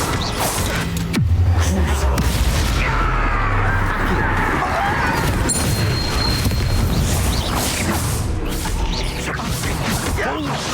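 Bombarda explosion spell from Hogwarts Legacy on Nintendo Switch, heavy booms and crashing impacts in a dense battle mix with whooshes and mechanical clatter, voices shouting over the din.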